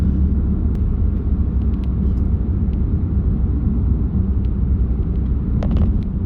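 A Range Rover Sport in sport mode rumbles steadily from inside the cabin while driving, a deep continuous engine and road drone with faint small clicks on top and no talk.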